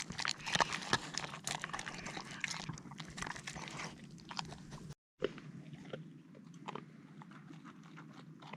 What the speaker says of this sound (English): You're supposed to chew it, Molly.